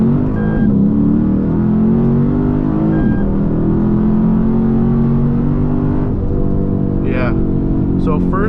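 A Lexus IS F V8 running E30 fuel pulls hard in first gear from a 20 mph roll, spinning at 5,000 to 6,000 RPM. It gives a loud, continuous engine roar that climbs steadily in pitch, close and dominant throughout.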